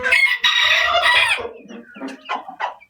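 A rooster's loud, close, drawn-out squawk is followed by a run of shorter clucks from the chickens, fading into softer irregular calls.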